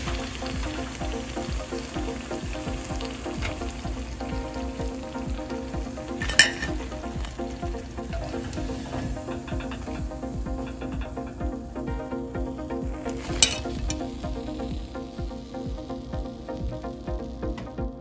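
Potato fingers deep-fry in hot oil with a steady, dense sizzling crackle that holds evenly throughout, two brief sharp clinks standing out above it.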